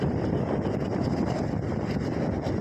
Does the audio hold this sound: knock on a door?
no